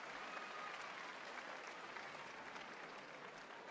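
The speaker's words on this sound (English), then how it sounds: "the Bushozan fans in the crowd, along with myself, cheering on for him" A sumo arena crowd at a Juryo division bout in May 2023 applauds and cheers steadily for a winning wrestler, a dense continuous wash of clapping throughout.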